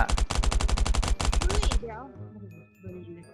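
Rapid automatic gunfire in Last Island of Survival, a dense burst of shots fired through a wall that stops abruptly, followed by quieter game sounds and a voice.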